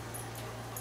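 A dog gives faint, soft whimpers and brief yips over a steady low hum, quiet throughout.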